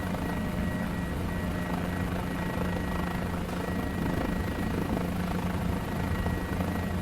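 Guimbal G2 helicopter main and tail rotors in Microsoft Flight Simulator, a constant loud rhythmic thrum with a steady engine hum, unbroken and close, with no talk.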